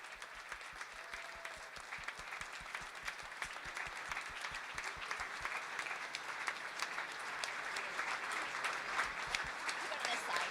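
Sustained audience applause greets chess grandmaster Magnus Carlsen at a Churchill Club six-board simultaneous exhibition, dense steady clapping from a sizable crowd lasting about ten seconds and swelling slightly toward the end.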